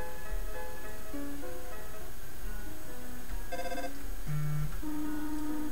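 A telephone rings in the video game Undertale, a synthesized electronic ringtone of repeating tonal notes playing over a quiet background for several seconds.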